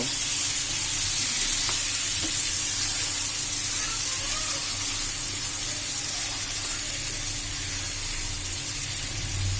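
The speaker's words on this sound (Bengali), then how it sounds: "এভাবে আমি 5 মিনিটের মতো ভাজতে থাকবো।" Masala for a prawn and taro curry sizzles loudly in a pan, a dense continuous frying hiss with occasional soft stirring scrapes, close up and unbroken.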